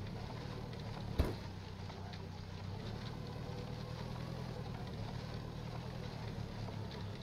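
Tractor engine in the farming game Pure Farming, a steady low droning rumble running throughout with a single brief knock early on, fairly quiet and with no talk over it.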